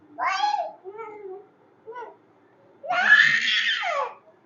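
A young child screams and whines in bursts at a family meal, shrill wails with pauses between them and a long loud cry near the end.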